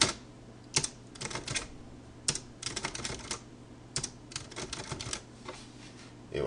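Typing on a computer keyboard, close irregular clusters of crisp key clicks with short pauses between bursts, fairly quiet against a faint background hum.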